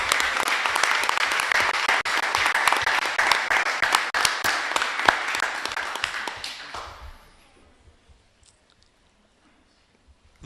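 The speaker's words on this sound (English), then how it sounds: "Please join me in a round of applause for Nicole Carlin" Sustained applause from an audience at a school board meeting, many hands clapping steadily for about seven seconds before tapering off into near silence.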